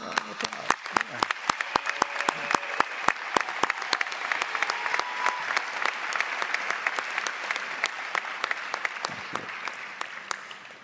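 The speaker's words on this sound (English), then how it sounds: "let's give them a round of applause" Commencement audience applause for graduating health professions degree candidates, a room full of clapping with many distinct sharp claps ringing out, sustained and fairly close throughout.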